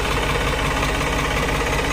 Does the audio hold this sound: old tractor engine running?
yes